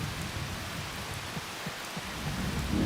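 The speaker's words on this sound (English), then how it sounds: "Comfy rain noises." Steady rain in the PS2 farming game Harvest Moon: Save the Homeland, a dense hiss of falling rain with soft low rumbles beneath, constant and even throughout with no voices.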